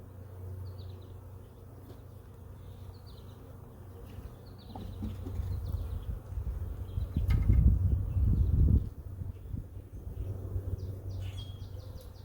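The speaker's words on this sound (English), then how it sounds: "the bees are out foraging and bringing stuff back to this box" Honeybees buzz around hive boxes as they forage, a steady droning hum near and far that swells louder as the swarm passes close, with faint birdsong in the background.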